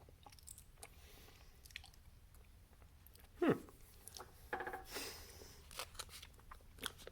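Spoonfuls of coffee-flavored pudding from a 2019 U.S. First Strike Ration being eaten up close, with soft wet chewing and smacking sounds, one sharper squish in the middle and quieter mouth noises after.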